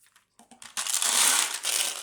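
A few light clicks give way to a dense, close rattling and crunching of small plastic beads shifting in a container.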